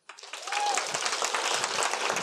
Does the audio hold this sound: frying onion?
no